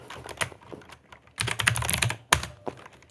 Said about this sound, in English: I just type a pound symbol and then hit the space bar